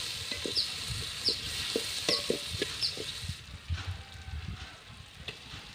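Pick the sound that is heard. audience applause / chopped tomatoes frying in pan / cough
chopped tomatoes frying in pan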